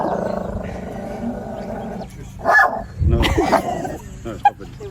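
A pet dog barks indoors early in the morning in a few loud, close bursts, while someone speaks to it in between.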